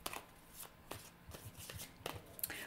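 Tarot cards are shuffled by hand in a series of quick, close riffling bursts, each a short papery flutter, coming in uneven clusters.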